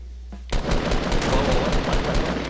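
Rapid gunfire in the video game Fortnite Battle Royale, a dense loud burst of repeated shots that starts abruptly after a brief quiet moment and continues steadily to the end.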